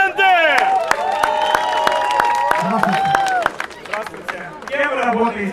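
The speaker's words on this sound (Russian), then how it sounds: "друзья, аплодисменты!" A studio audience breaks into scattered clapping, sharp irregular claps rattling near and loud while a presenter's voice rings out over them, the applause thinning toward the end.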